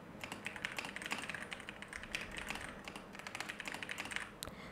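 Steady rapid typing on a computer keyboard while entering text in CapCut on PC, a continuous run of light, close key clicks with no talking.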